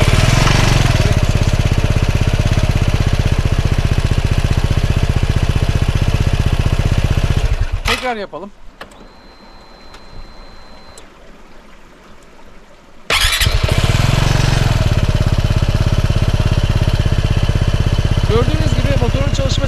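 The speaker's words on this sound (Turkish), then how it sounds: "Gördüğünüz gibi motorun çalışma sesi bu." An RKS Vieste 249 motorcycle engine runs loud and close near the exhaust, a steady throbbing idle that cuts out briefly, then restarts and keeps running; a voice speaks during the quiet gap.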